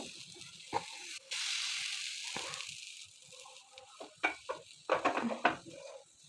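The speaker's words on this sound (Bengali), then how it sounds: "আর এই যে এবার আমি ব্যাটারটাকে দিয়ে দিচ্ছি, এইভাবে ছড়িয়ে নেব।" Rice-flour batter for malai patisapta spreads across a hot pan over a low gas flame, giving a soft sizzle with scraping and stirring clicks, closer bursts of pan contact near the end, no talking.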